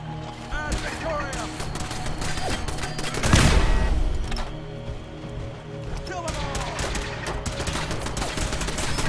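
Turrets in Fallout 4 fire rapid bursts of gunfire that rattle steadily throughout, peaking in a loud blast near the middle, with game sounds and voices layered underneath.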